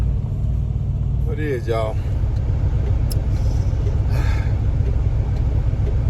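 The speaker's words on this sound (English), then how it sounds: "We're gonna crank this truck up." A box truck's engine runs with a steady low rumble throughout, under a brief spoken remark near the start.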